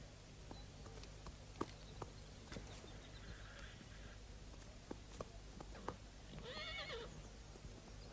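A white horse whinnies twice at moderate distance, with hoof clip-clops and scattered sharp knocks throughout, over a steady low background hum.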